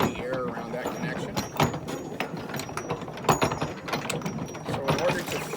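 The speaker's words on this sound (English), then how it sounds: "There is a wrench to finally tighten the brass collar." Wrench tightening a brass collar on a fire pump suction line, with repeated metallic ratcheting and clanking in irregular bursts, close and fairly loud, alongside talk.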